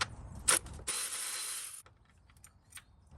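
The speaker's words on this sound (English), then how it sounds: "I'm going to use my Milwaukee ratchet to do that." Cordless Milwaukee ratchet backing out 10mm bolts while replacing the secondary air injection valve on a Toyota Tundra 5.7L V8: a short whir, then a louder sustained buzzing run of about a second, followed by faint clicks.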